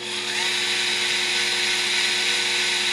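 A power drill spins a 3/8-inch chamfer bit, grinding off the head of a rivet on a 1997 Corvette, giving a steady close high-pitched whine that holds throughout without pause.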